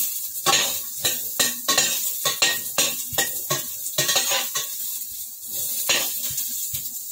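Ginger frying in oil in a pan comes through as a run of rhythmic, loud scraping and clattering strokes of a utensil against the pan over a light sizzle, with no one speaking.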